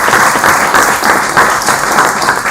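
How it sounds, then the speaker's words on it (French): Loud, dense audience applause fills a French conference hall, steady and close, with rhythmic swells of clapping throughout. "est-ce qu'on peut applaudir ce bonhomme de Timox?"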